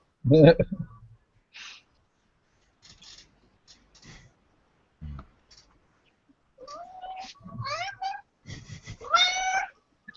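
A house cat meows several times at irregular intervals, some calls rising and wavering, close and fairly loud, separated by near silence and occasional faint sounds.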